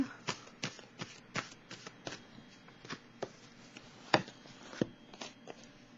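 Tarot cards being laid down and handled during a reading: a series of soft, sharp slaps and flicks, about fifteen irregular taps close by, with a quiet shuffling rustle between them and no voices.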